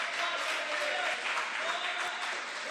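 A church congregation claps together in sustained, dense applause through a sermon, steady and loud with no break and no clear speech over it.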